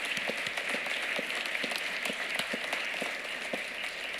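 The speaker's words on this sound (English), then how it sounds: "Let's give them a round of applause" Commencement audience at MCW Central Wisconsin's 2023 ceremony applauds graduates, a dense sustained crowd clapping with distinct sharp claps standing out, fairly distant and even throughout.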